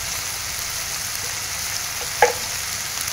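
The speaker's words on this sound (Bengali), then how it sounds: "সমস্ত মশলাটাকে এখন ভালো করে একটু কষিয়ে নেব" Salt, chili powder and turmeric frying in a hot pan, giving a steady close sizzling hiss with one brief sharp clink of a utensil partway through.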